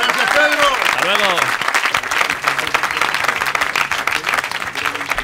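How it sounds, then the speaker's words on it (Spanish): A studio audience applauds Pedro Lucha, the chronicler of Orcera, in a dense burst of clapping, while excited voices and cheers ring out over the start before the applause carries on alone. "Un aplauso para Pedro Lucha, el cronista de Orcera"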